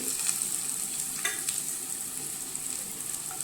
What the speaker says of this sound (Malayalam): ഉപ്പ് എല്ലാം നന്നായി പച്ചമണം മാറുന്നതും വരെ ഇളക്കി കൊടുക്കുക.